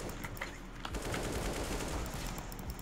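Counter-Strike gunfire, a rapid burst of close, clattering automatic shots in quick succession over a steady background hiss, fairly faint overall.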